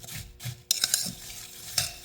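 A spoon stirs sugar into an apple pie filling in a pan, soft scraping strokes with a few clinks of metal against the dish and a faint sizzle beneath, no talking.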